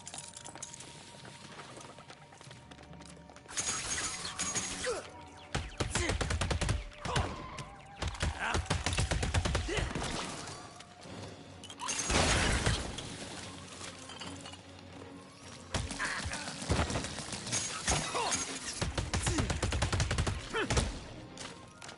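Bursts of video-game gunfire from LEGO Batman: Legacy of the Dark Knight, rapid crackling volleys coming in several clusters with quieter gaps between, loud and close, with occasional metallic clinks.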